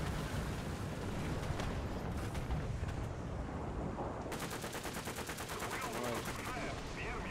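An M18 open-top tank destroyer fires in War Thunder amid a dense, loud din of battle, with a rapid burst of repeated gunfire in the last few seconds.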